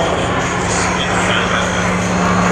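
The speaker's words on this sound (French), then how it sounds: "Le bruit et les fumées de Sifury, le bruit du moteur Griffon" A loud, steady Rolls-Royce Griffon piston engine of a Sea Fury aircraft at an air show roars continuously with a deep, throbbing drone, close by and unbroken.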